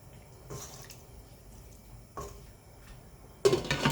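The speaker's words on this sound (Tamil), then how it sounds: "நம்ம கொஞ்சம் தண்ணி ஊற்றி வேக வச்சுக்கலாம்" Water is poured into a pot of chicken gravy: two brief splashing pours, then a louder, steadier pour at the end, close and otherwise quiet.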